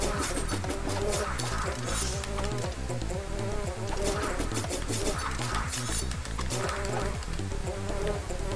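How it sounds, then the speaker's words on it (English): In the video game Reaper: Tale of a Pale Swordsman, wasps buzz in a dense, continuous drone, layered with busy game effects throughout. "Kill more wasps."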